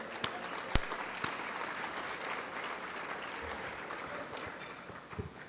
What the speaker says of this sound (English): I want to give everyone a really big round of applause for that